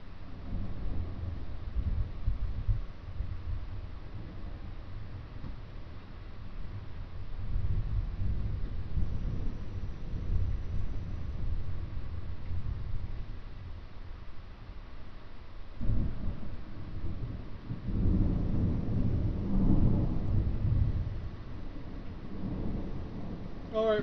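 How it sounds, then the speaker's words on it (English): Thunderstorm at night near Odessa and Midland, Texas, with about 13 mph wind: low rolling thunder rumbles repeatedly through a steady wash of rain and wind, heavier booms swelling toward the end. "We are in a thunderstorm"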